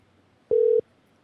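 A single short, steady electronic telephone tone, like one beat of a busy signal after a dropped call, sounds clearly over a quiet line.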